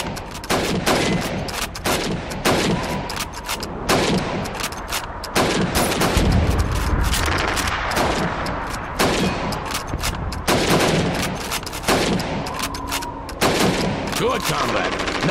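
Rapid rifle gunfire in Call of Duty 2's Red Army winter training level as helmets are shot against the clock; repeated sharp reports over about fifteen seconds, loud and near, with some background voice.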